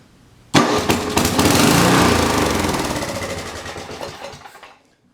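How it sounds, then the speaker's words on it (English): An MTD Yardman 10.5/30 snow blower's Tecumseh engine sputters and then catches, roaring loudly and steadily before slowly winding down and cutting out. "So if it starts, you guys will be the first to see it with me"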